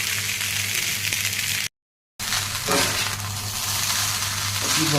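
Cooked rice frying in oil in a pan for a home-style Bengali fried rice, giving a steady, loud sizzling hiss that cuts out briefly and then resumes, with no voices.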